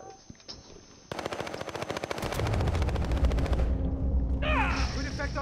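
Rapid automatic gunfire in Call of Duty: Warzone, Season 2 Caldera map: a few isolated shots, then a dense sustained burst of close, loud rounds with a booming low rumble beneath, tapering as a tonal game sound rises at the end.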